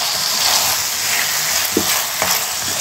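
A chicken hot dog and noodle mixture fries in a pan with a loud, steady hiss and sizzle, broken by a couple of soft spatula taps, heard close and with no talking.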